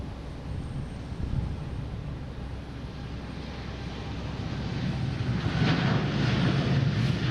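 An American Airlines jet at Boston Logan Airport gives a steady, distant engine roar that swells slightly louder toward the end, with no talk.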